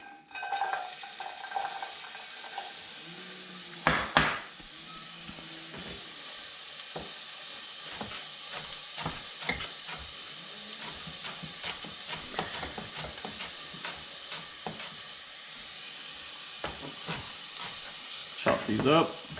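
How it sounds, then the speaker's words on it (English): Onions frying in melted butter in a pan during cooking of yellow pepper rice, a steady soft sizzle with scattered clinks and stirring clatters, a louder clatter early on, and a voice talking over it. "Butter's going. I'm gonna throw some of these onions in."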